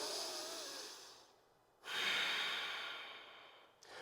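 Slow, deep breaths during a power yoga flow: a long airy exhale, a short quiet pause, then another full breath in, close and soft, with no other sound around it.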